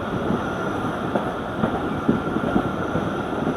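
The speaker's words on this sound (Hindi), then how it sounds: "इस वक्त जो ट्रेन चल रही है वो नई लाइन पे चल रही है, नया रेलवे ट्रैक" A passenger train runs on a new railway track in the Thar Desert. It makes a steady, loud rumbling roar with soft rhythmic clacks of the wheels running through it. No one speaks.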